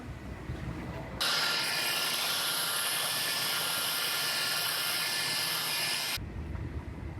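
A heat gun blows steadily for about five seconds while warming generic sound deadening pads laid inside a car trunk, a loud continuous hiss and whoosh that starts abruptly and cuts off cleanly.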